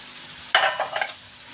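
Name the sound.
stirring mashed potatoes into chicken spring roll filling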